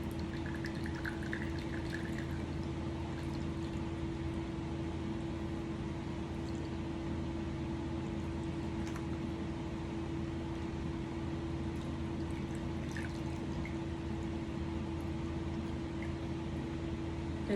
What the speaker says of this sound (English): now I'm going to put in about half a cup of hydrogen peroxide here and pour it through that funnel